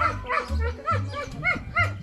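A dog barks in several short, evenly spaced bursts from close by, loud and clear over a quiet background, with a faint whimpering quality between some barks.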